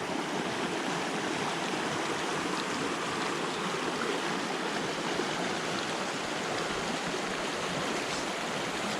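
A babbling brook in Gold Hill, Colorado, runs downhill with a constant, close burble and splashing of water, steady and moderately loud with no voices over it.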